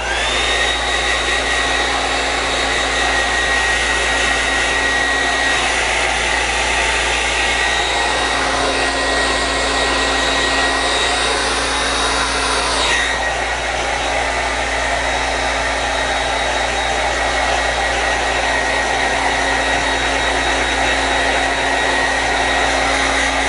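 Hair dryer blows steadily on thick, damp hair, a loud continuous whooshing roar with a faint high whine, shifting in tone briefly midway as the airflow moves, with no talking.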